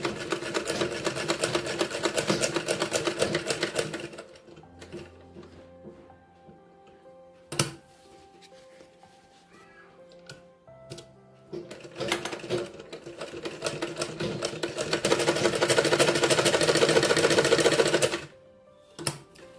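Sewing machine stitching a shirt collar, two long runs of rapid, steady mechanical clatter separated by a quieter pause with faint clicks and handling.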